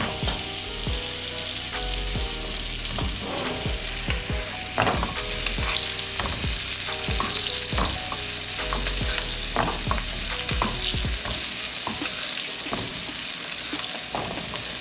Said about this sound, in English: I'm only cooking this all in that bacon fat that we had left over in the pan